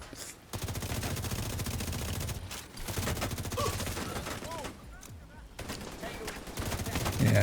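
Small mini tanks in a video game unload sustained bursts of rapid gunfire, dense overlapping volleys that continue with brief gaps and a loud final surge.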